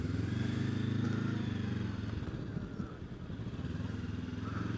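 A motorbike travels along a detour route around a road diversion, its mid-pitched engine pulsing steadily and close by, with a slight dip in level midway.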